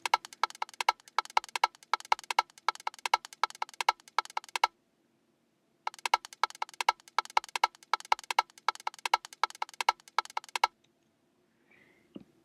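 Sampled bongos play alone in a trap production, crisp dry hand-drum hits in a quick repeating pattern that stop for about a second, then resume before fading out.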